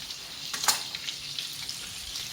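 Food sizzles in a frying pan on a home stove while gnocchi and meatballs cook, a soft steady crackle with one brief sharper burst near the start, fairly faint and without talk.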